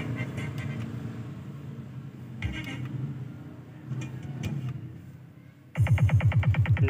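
A test track thumps through car subwoofer speakers, first as muffled bass-heavy music, then a loud, fast, evenly pulsing bass beat kicking in over the last second.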